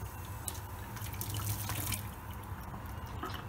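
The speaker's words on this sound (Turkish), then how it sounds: "Şimdi buradaki suyu lavaboya döküyorum." Hot water mixed with lemon salt (citric acid) poured from a limescaled kettle into a sink, a steady close splashing and gurgling flow running throughout.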